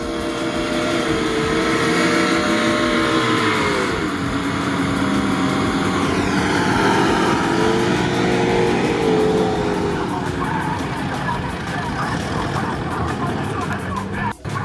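Heavy off-road Mercedes G-Class with two 606 engines, one in front and one in the trunk, at an off-road trophy event, roaring loudly and steadily with rising and falling revs throughout.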